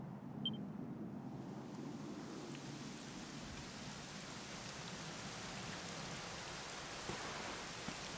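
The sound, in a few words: rain falling, from a video game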